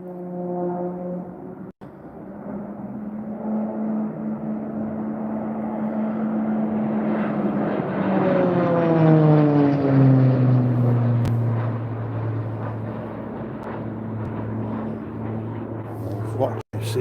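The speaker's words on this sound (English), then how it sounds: "Oh, here you go, Texan" A Texan propeller trainer, number 10, passes through the Mach Loop valley, its engine drone rising then sweeping down in pitch as it banks round, loud and sustained over wind noise.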